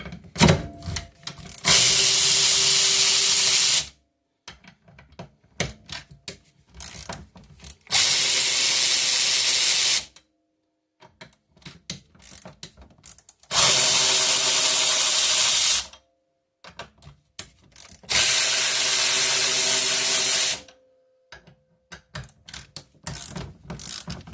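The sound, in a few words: 11 mm socket wrench working on Polaris P85 clutch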